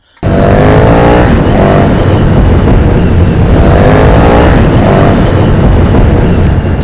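Motorcycle with uprated wheels and brakes is ridden at speed, its engine loud and close, droning continuously with rising and falling revs under heavy wind rush.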